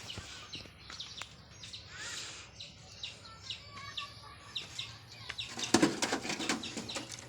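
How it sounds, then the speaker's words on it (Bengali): Sirajee and local pigeons inside a newly built pigeon house, with soft intermittent cooing, rustling and wing flutters, a few sharper movements near the end, all fairly faint and close. "সিরাজি কবুতর, দেশি কবুতর"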